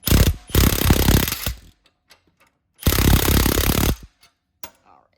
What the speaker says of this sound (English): going to use the impact part of the way just to make this a little quicker